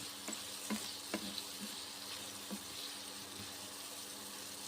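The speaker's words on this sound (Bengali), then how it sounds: "জিরে গুঁড়ো দিয়ে নেড়ে চেড়ে ভেজে নিচ্ছি।" Pumpkin frying with ground cumin in a pan, a steady high sizzle with soft stirring scrapes and a few light knocks of the spoon, close and alone with no talk.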